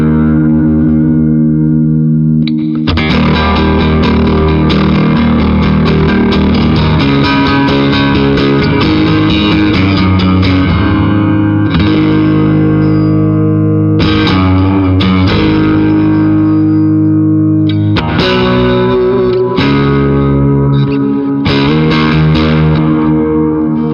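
A loud, heavily distorted electric guitar through a Jackson Audio Prism drive pedal on high gain plays sustained chords and riffs, thick and saturated, with brief pauses between phrases.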